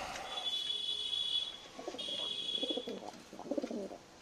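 Pigeons coo in a breeding loft of American Fantail and other fancy breeds, soft low rolling coos building from about the middle onward under a steady high electronic whine, moderately close.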